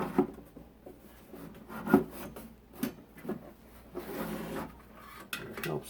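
A 1935 Western Air Patrol 76 radio chassis slid into its wooden cabinet: repeated wooden rubbing, scraping and knocking as the chassis is pushed and shifted into a tight fit, close and moderately loud.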